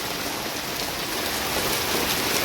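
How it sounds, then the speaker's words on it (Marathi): Steady, cold rain in May falls without a break, a dense even patter of drops on surfaces close by, with no voices. "आज खूपच थंडलेला पाऊस आहे बघा"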